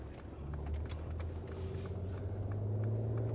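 A Mercedes-Benz GLS 450 drives along with a quiet, steady low engine and road rumble heard from inside the cabin, with no talking.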